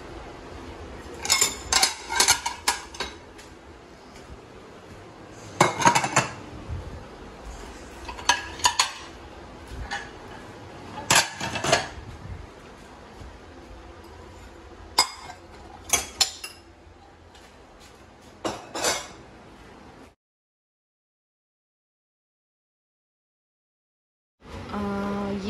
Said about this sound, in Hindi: जो बर्तन इसमें से निकाल के दूसरे रखने हैं।